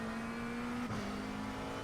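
McLaren 720S GT3 race car in the iRacing game at Spa in the rain, its engine holding a steady high drone with a brief dip and quick recovery, like an upshift at speed.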